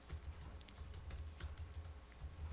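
A computer keyboard clatters under steady, rapid typing, with quick, closely spaced keystrokes heard up close and without any voice.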